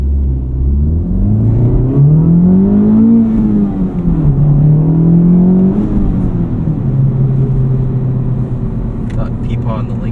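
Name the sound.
Audi RS3 accelerating hard at night without launch control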